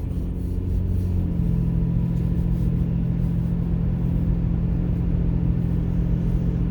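A car cruises through affluent Upper Arlington neighborhoods, heard from inside as a steady, even low engine and road drone with no voices.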